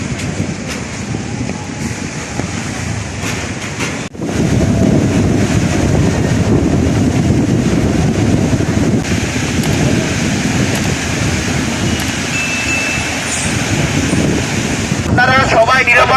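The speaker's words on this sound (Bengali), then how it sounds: "প্রবল বেগে ধেয়ে আসছে ঘূর্ণিঝড় রেমাল" Cyclone Remal's strong wind roars continuously and close against the microphone, buffeting in loud, unbroken gusts.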